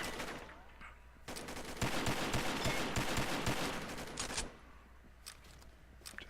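A 50 cal fires in a video game in quick bursts of rapid shots, with crisp cracks repeating in a dense volley and then trailing off, heard at moderate level over a quiet background.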